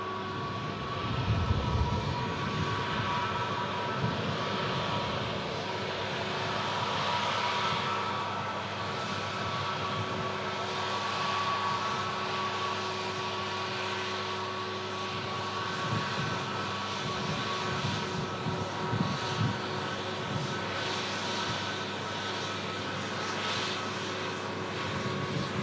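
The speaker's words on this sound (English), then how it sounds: "Catch this lovely sounding Neo rolling past us" An Airbus A320neo-family airliner rolls past with a steady engine roar and a whining hum, loud and sustained for the whole stretch, with no voices.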